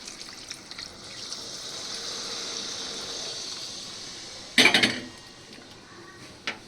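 Water poured into a pan of frying rui fish curry gives a steady close hiss and sizzle, then a sudden loud burst of spattering that quickly fades back to a quieter simmer.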